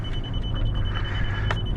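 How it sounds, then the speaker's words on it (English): Steady electronic beeping from an nRF24L01 radio range-test receiver, a continuous tone with a faint repeating pulse over low rumbling background noise, as if inside a moving vehicle. "So we've got the beepity beeps, as you can maybe hear."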